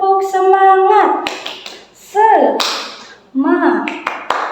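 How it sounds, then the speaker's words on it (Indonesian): Sixth-grade schoolchildren in a primary classroom do a rhythmic spirit clap, chanting voices alternating with a few sharp group claps spread across the moment. "Nah, tepuk semangat."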